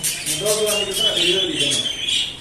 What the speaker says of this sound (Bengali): দোকানে আরও বিভিন্ন প্রকারের পাখি রয়েছে কবুতর রয়েছে এই দেখেন